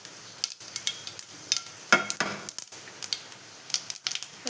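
Fenugreek seeds hitting hot oil in a pan, a soft crackling sizzle with quick sharp pops and light stirring scrapes, close and without talk.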